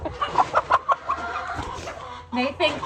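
Chickens cluck close by around feed, with repeated short rhythmic clucks and some background murmur.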